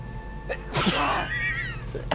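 A single sharp sneeze, close and abrupt, over a low background hum.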